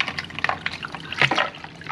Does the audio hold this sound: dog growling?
no